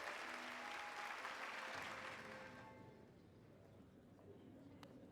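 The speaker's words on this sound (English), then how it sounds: "Hear how the crowd adores you." Crowd applause in the game Hollow Knight, a dense wash of clapping and cheering that is loud at first, then fades to a quieter murmur, with a voice talking over it.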